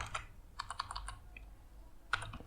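Quiet close keystrokes on a computer keyboard while code is typed, coming in short irregular bursts with brief pauses between them.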